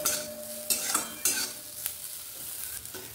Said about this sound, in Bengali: আলু গাজরটা আমার সুন্দর ভাজা ভাজা হয়ে গেছে, দেখো।